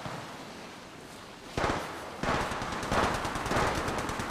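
Rapid automatic gunfire bursts in the mobile shooter game Apex Legends Mobile, several quick rattling volleys after a brief quieter lead-in, loud and close.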